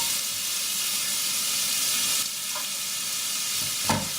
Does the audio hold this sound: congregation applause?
no